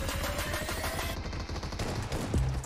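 Shotgun and automatic gunfire in PUBG Mobile, a dense, continuous rattle of rapid shots that stays loud and steady throughout the short burst, with no voices over it.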